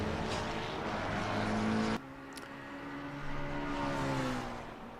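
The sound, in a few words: race cars driving at Monza in a racing video game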